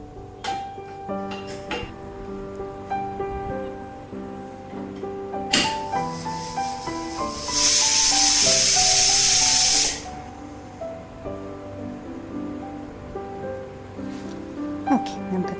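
A pressure cooker cooking chicken with a little water for a spring roll filling lets out one loud, steady burst of steam hiss lasting about two seconds, rising sharply above light background music and cutting off abruptly.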